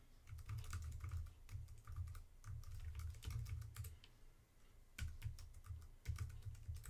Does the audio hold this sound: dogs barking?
no